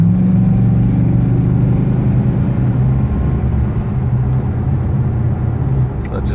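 An AWD 5.0 Ford Ranger under full throttle, its engine droning loud and steady from inside the cab for several seconds and easing slightly at the end.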